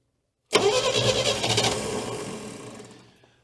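An abandoned 1968 GMC engine cranks and catches abruptly, giving a loud, rough mid-pitched roar that sputters and fades away over about three seconds, with no talking.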